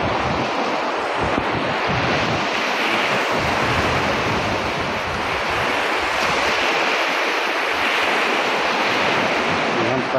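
Ocean waves crash and surge in a continuous loud roar at the seaside during stormy weather, heavily mixed with blustering wind buffeting the microphone.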